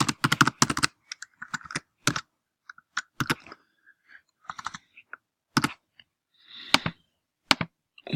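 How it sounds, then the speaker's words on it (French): Computer keyboard typing in short, irregular bursts of crisp key clicks, close and clear, with brief silent pauses between flurries and no voice. "On peut taper du texte."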